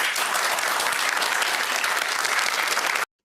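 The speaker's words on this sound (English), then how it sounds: "An unlikely applause from a country that really hates migration." Steady, dense audience applause during live election coverage, a full crowd clapping evenly and loudly before cutting off abruptly.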